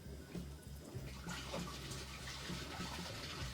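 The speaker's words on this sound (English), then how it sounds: "now I'm going to funnel some hot water in" Boiling hot water and wort pour through a funnel into a fermenter while stout beer is being brewed. The liquid gurgles and splashes continuously and fairly softly at close range, with no talking.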